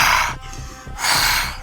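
A voice imitates heavy breathing: two loud, close, rasping breaths, a long harsh rush, a brief pause, then a second heavy exhale, alone with no other sound.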